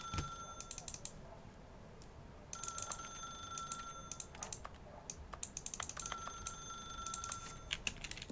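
A telephone rings in The Stanley Parable: Ultra Deluxe, three repeated bursts of a bright electronic bell, while computer keyboard typing and mouse clicks sound close by between and under the rings.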